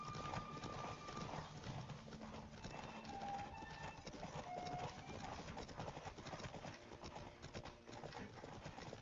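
Rapid hoofbeats of a horse in the video game The Witcher 3: Wild Hunt clatter in a steady galloping rhythm, fairly quiet, with a few brief tonal chimes over the top.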